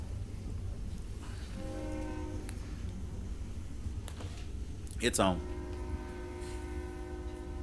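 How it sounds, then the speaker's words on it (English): A train passes at a distance during a city council meeting, sounding long tonal horn blasts under a constant rumble, with one louder burst in the middle; a person speaks briefly. "I can't hear you for the train"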